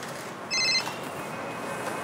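A mobile phone rings in an Egyptian drama, a short electronic ringtone burst sounding over a noisy indoor room tone.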